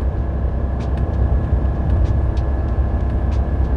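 Chevrolet 2500 pickup with the 6.6L L8T gas V8 pulling hard while towing, a steady loud low drone of engine and road roar holding near 4,000 RPM at highway speed, with faint ticks above.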